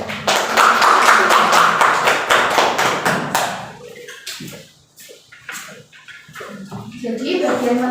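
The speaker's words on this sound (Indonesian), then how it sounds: "Kasih tepuk tangan buat dia." Classroom applause for a student, a burst of clapping from a group of pupils for a few seconds that fades out, followed by a teacher and students talking.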